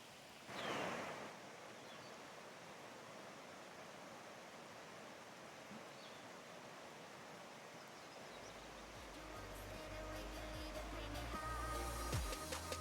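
Water flowing steadily along the Cheat River in Monongahela National Forest, a constant broadband rush heard close and alone, growing slightly fuller toward the end.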